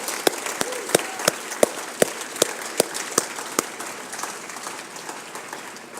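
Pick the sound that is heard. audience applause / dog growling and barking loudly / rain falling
audience applause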